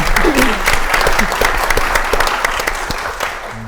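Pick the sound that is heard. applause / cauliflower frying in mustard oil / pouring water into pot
applause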